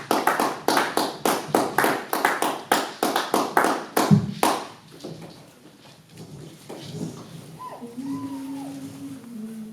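Church congregation clapping together in a steady rhythmic beat for several seconds, loud and close, then fading into a murmur of voices and a few cries of acclamation.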